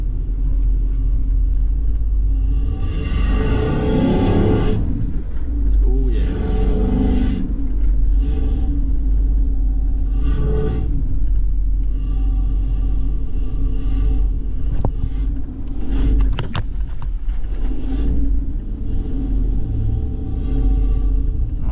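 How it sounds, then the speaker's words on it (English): A 4WD fitted with an intake snorkel drives along a beach at high tide, its engine roaring in a loud, steady low rumble that holds throughout, with wind buffeting and no talk. "Wind that window down so we can hear that snorkel."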